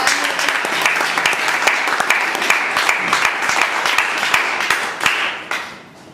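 Audience applause at a speaking club meeting, many hands clapping steadily and fairly close, with sharp individual claps standing out before it tapers off at the end.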